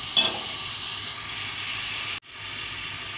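Onions sizzle in a hot pan for a curry, a steady, close frying hiss that runs evenly and cuts off abruptly for a moment before resuming.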